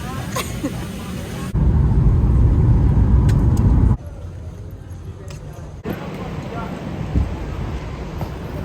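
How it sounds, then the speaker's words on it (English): A parked car's engine runs for air conditioning in a Las Vegas parking lot early in the morning. A steady low rumble is broken by loud broadband stretches, and faint voices sound in the background. "it was so hot we needed to turn the car on for the AC"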